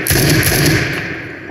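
Revolver pistol firing in the Roblox shooter Phantom Forces, a loud, close blast with a few rapid pulses and a ringing tail that fades over about a second, no voices.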